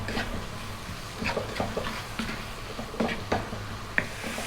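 Vegetables including celery, seasoned with salt and black pepper, sizzle softly in a pan while being stirred, with irregular scraping strokes and occasional light clinks of utensil on metal.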